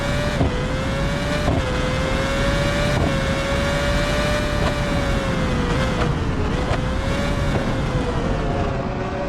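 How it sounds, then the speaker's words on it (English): A Formula 1 car in the BeamNG Drive racing game runs at high revs along a track mod, its engine whine steady and loud with brief dips at each gear shift, continuous throughout. "A lap in the F1 car starts right now."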